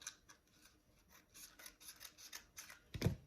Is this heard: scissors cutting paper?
yes